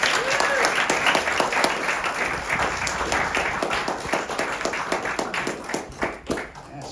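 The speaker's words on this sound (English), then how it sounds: "Can we get another round of applause?" Audience applause at a poetry reading, dense and steady clapping from a crowd filling the whole stretch, tapering slightly toward the end.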